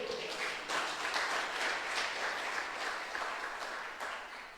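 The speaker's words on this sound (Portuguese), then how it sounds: "Você pode aplaudir o Senhor nessa noite?" A church congregation at an evening service applauds, a soft, distant wash of many hands clapping steadily, fairly quiet and unbroken throughout.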